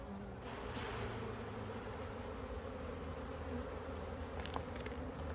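Honey bees buzzing after a frame is lightly shaken in a fast-growing Texas hive, a dense continuous drone holding steady throughout, close and without talk.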